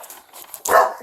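A dog barks once, loud and close, in a single sharp burst after a stretch of quiet background sound, during a tense scene at a home after an incident.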